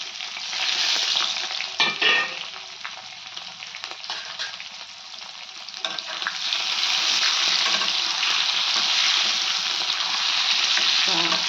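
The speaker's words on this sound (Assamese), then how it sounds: "এতিয়া মই পিঁয়াজখিনি দিওঁ।" Chopped onions sizzle loudly in hot pork fat with steady frying noise, and a spoon scrapes and stirs them now and then. No one talks.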